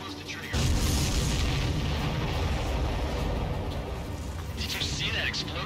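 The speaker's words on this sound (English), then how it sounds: "That's a confirmed direct hit by the missile." A deep boom from a missile hit in Ace Combat 7: Skies Unknown bursts out early, followed by a sustained rumbling roar of battle noise, with a voice talking over it.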